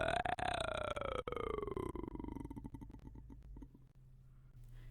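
A long inward vocal fry with the mouth shifting around, a gravelly growling croak recorded for a growl sound, starts strong and bends gradually lower in pitch. It breaks into rough, uneven pulses before fading over about four seconds.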